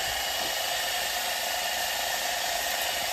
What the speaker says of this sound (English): Homemade lathe